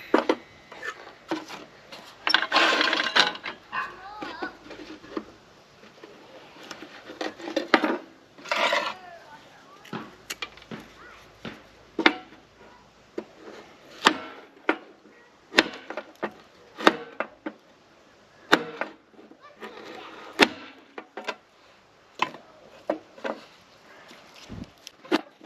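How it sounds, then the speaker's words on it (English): Chunks of green wood have their bark peeled away by hand and are dropped into a cast-iron Dutch oven for charcoal making, giving scattered dry scrapes, knocks and clunks at close range, with occasional talk. "So we'll peel it off and we'll put it in the Dutch oven."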